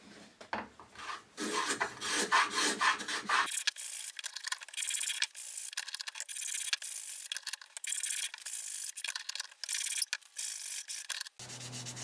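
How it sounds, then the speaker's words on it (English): Sandpaper rasps back and forth over the edges of wood and resin coasters in continuous close strokes, coarse and scratchy at first, then thinner and lighter with scattered sharper scrapes, with no talking. "use sandpaper to give it a final smoothing"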